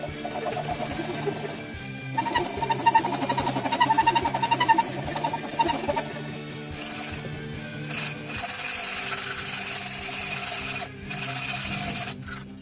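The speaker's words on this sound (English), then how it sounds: "To round off concave shapes, just wrap a dowel with sandpaper." Sandpaper wrapped on a dowel rubbing concave curves of a wooden sword, close and fairly loud, a run of scratchy strokes with brief pauses between them.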